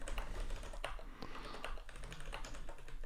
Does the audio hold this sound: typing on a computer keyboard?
yes